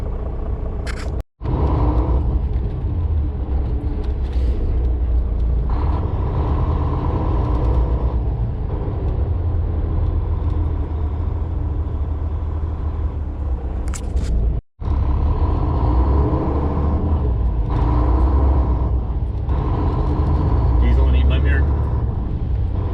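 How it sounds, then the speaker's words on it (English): A 75-foot semi-truck tractor trailer rumbles with a steady, low engine drone in tight old city streets, heard from inside the cab under continuous talking, with two brief dropouts. "75-foot semi-truck, tractor trailer."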